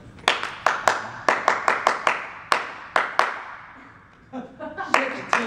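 Rhythmic hand clapping in a repeated pattern, taught as the beat for a biology rap about the 16S ribosomal small subunit: sharp, close claps in irregular groups, a short pause, then softer taps at the end.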